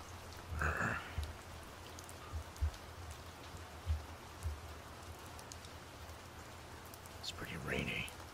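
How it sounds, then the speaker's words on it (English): Steady rain falls as a soft, constant hiss, with a few faint low thumps and quiet whispered voices at the start and end. "It's pretty rainy."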